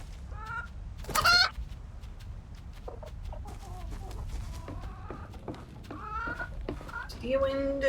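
Chickens cluck from a henhouse in a video game, a series of close, short clucks and squawks with one sharp burst early on, while a person talks between them.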